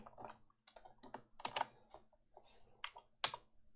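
Keys on a computer keyboard are typed in short irregular bursts of close, crisp clicks while commands are entered into the Betaflight flight-controller CLI for PINIO setup.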